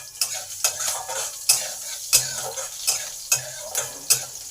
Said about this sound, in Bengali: কাঁচা লঙ্কাটাকে একটু ভালো করে ভেজে নেব।